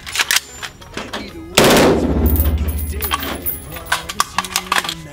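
An AR-15 firing fully automatic from a Hex Mag magazine lets off one loud, rapid burst of about a second and a half, followed by ringing echo and a few scattered clicks and knocks.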